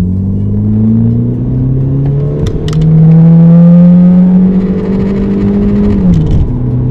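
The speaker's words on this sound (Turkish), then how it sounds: "Bir dip gaz yapıyorum şu an." A 2003 Volkswagen Golf 1.6 petrol engine is revved at full throttle nearby. It climbs in pitch, holds a loud high whine, then drops back and rises again, heard alone without speech.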